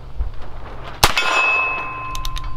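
A single .22 shot from a Heritage Rough Rider revolver strikes a metal raccoon target with a sharp, ringing clang that decays over an outdoor background.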